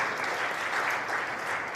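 A church congregation bursts into warm, steady applause to welcome a newcomer at a Sunday service, a brief, even patter of many hands clapping close by.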